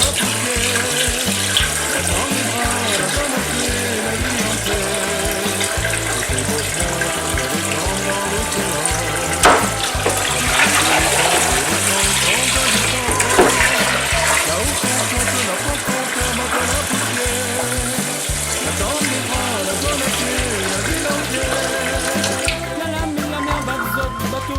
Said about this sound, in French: vous le refroidissez en le remettant dans l'eau froide quelques instants